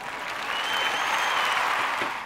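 A burst of applause, a continuous, fairly loud wash of clapping that swells slightly and holds steady before tapering at the end.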